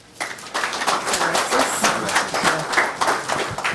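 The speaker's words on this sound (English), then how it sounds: "Please give her a big round of applause" Dense audience applause at a ribbon-cutting event welcoming the congressional delegate, a continuous wash of many hands clapping at steady loudness.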